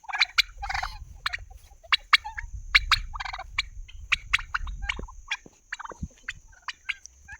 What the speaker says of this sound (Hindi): वो दोनों के दोनों टर्की है।